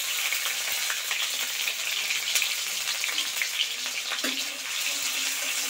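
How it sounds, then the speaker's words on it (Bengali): Onion and chili sizzle steadily in hot mustard oil while being stirred, a dense continuous hiss with faint scraping in the pan. "লঙ্কা এবং পেঁয়াজ দিয়ে নাড়াচাড়া চলছে।"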